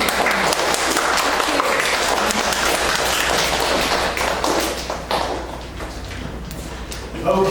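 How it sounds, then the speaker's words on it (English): Students at a TESOL program entrance ceremony clapping for one another, a busy mix of claps and taps that thins out midway as voices start talking, then a final thump. "Why don't you give a big round of applause to each other for a really enjoyable and productive journey together."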